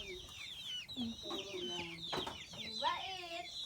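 Chickens and chicks cluck and chirp close by in a busy, overlapping chorus, with short squawks and peeps rising and falling.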